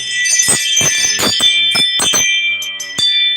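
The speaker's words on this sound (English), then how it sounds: "What is that chime? You know, I've got one of those Ring video door cameras" A Ring video doorbell camera sounds its motion-alert chime at a backyard barbecue, a bright sustained electronic ring with repeated tonal strikes over steady background noise, loud and close.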